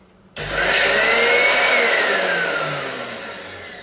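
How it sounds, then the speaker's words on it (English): A blender switches on abruptly and roars loudly, its motor pitch shifting as a thick chickpea paste churns, then gradually easing slightly. "my blender is really, really strong, so it kicks up the ingredients"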